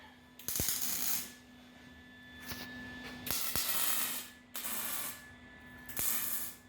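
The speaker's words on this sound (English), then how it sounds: "it's a good thing the kid knows how to weld" Welding crackles and hisses in repeated bursts, each a few seconds long with quiet gaps between, fairly soft and steady.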